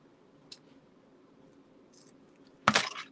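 Scissors snip ribbon on a craft packaging box. A couple of faint, brief clicks come first, then one sharp, close snip near the end in an otherwise quiet room.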